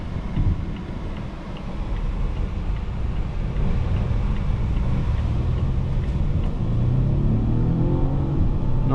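A 2025 Volvo V60 T8 Polestar Engineered accelerates on a road drive, with a steady deep engine rumble and road roar heard from inside the cabin, the drone rising slightly toward the end.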